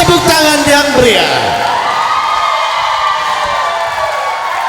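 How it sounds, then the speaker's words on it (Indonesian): A concert crowd at a vocal group performance cheers and applauds, with shouting and whoops over clapping, and a voice rises in a loud drawn-out call at the start. "berikan tepuk tangan yang meriah"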